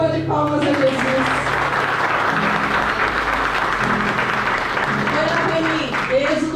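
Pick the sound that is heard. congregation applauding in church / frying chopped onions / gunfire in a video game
congregation applauding in church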